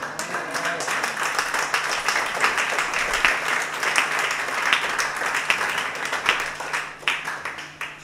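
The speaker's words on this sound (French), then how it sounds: "faites-lui encore une acclamation" Congregation applauding at a Sunday Christmas-season church service in Marcory Anoumabo, a dense steady wash of clapping lasting several seconds, close and fairly loud, with voices mixed in.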